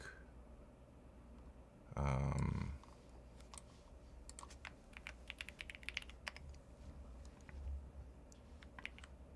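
Rapid computer keyboard typing during a TypeRacer race, a quiet steady patter of key clicks with a brief louder burst near the start and no talking.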